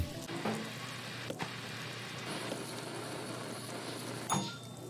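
Food frying in a pan in the VR cooking game Gourmet Chef Simulator: a steady, dense sizzle runs throughout, with a few faint knocks and clicks from the kitchen.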